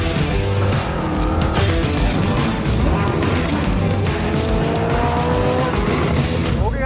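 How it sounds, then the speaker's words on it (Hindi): Land Rover Defender mounting a footpath, with a loud, continuous engine and tyre-on-road roar throughout and some scraping and rumbling; a voice talks briefly over it. "इसको मैंने गाड़ी को चढ़ा दिया फुटपाथ पे"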